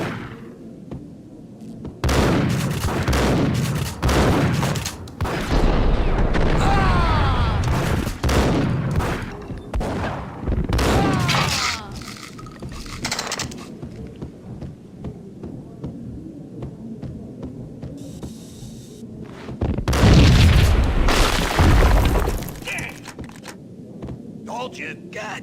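Gunfire and blasts from the Max Payne PC shooter, loud dense bursts of shots in repeated waves with a big explosive burst near the end, mixed with game dialogue and voices talking throughout.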